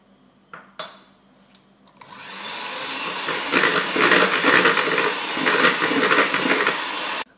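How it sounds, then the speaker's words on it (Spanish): An electric mixer beats egg into cream for chocolate cookie dough. A few light clinks and taps of kitchenware come first, then the mixer whirs up and runs loudly and steadily to the end. "le incorporamos el huevo y batimos bien"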